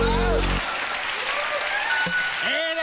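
Studio audience at a German comedy show bursts into sustained applause after a low tone fades, the dense clapping steady throughout while voices talk over it.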